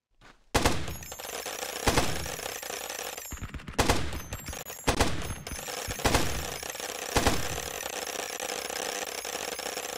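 An M14 rifle fitted with H&K sights and a grip fires in Ground Branch, a handful of sharp, loud single shots spaced irregularly, each ringing with a bright metallic tail against a steady background hum.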